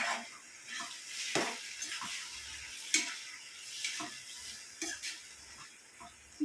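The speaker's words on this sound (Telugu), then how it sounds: "ఒకసారి కలిపేసుకుందాం మొత్తం" A mixture being stirred in a pan, with a faint sizzle of frying underneath and soft scrapes and knocks of a utensil against the pan at irregular intervals. The sounds are close and fairly quiet.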